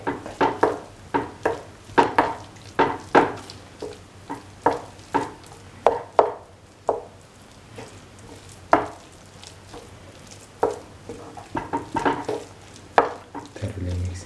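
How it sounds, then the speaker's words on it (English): Rice being stirred into green mango and mung bean fried rice, a regular series of close scraping and clanking strokes of a spoon against the pan over a soft sizzle, with a brief pause midway. "Now put in the rice little by little and mix it in."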